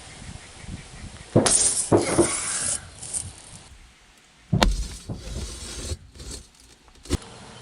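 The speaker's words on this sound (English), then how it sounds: "Some bullets can't even penetrate windshields, so let's see if the sword does." A titanium sword is driven into a car windshield of laminated glass with a plastic layer between the panes, giving sharp crunching and scraping bursts, a loud impact near the start and another midway, with quieter rasping between.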